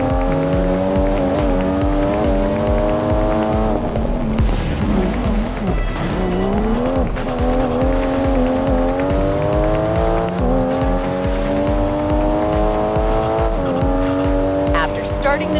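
A race car in the Racing Master game drifts under full throttle, its engine droning loud and steady while the tires squeal in long rising and falling tones throughout, with a voice talking over it.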